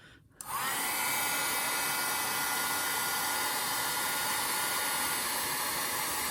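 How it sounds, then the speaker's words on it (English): A heat tool blowing over a stamped card starts with a click and then a loud, steady whooshing hum of hot air that runs on without a break. "once your heat tool gets hot"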